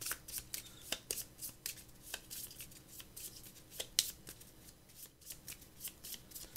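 Magic: The Gathering cards being shuffled by hand in quick repeated riffles, a steady run of crisp flutters close up with no talking.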